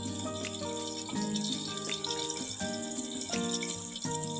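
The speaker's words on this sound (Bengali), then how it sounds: "জল দিয়ে দিলাম।" Water is poured into a cooking pan holding spice paste of chilli, turmeric and cumin for a prawn dish, a continuous gurgling, splashing flow heard close up with no talking.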